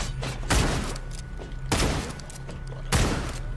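Three heavy, booming shotgun blasts in the Redeemer video game, spaced roughly a second apart, loud and close over a steady low background hum.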